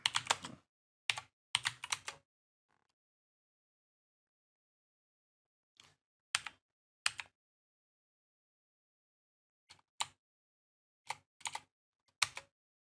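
Keys clatter on a computer keyboard in a terminal during a GNU COBOL install, with quick bursts of typing and repeated tab presses separated by long silent pauses, close and fairly quiet.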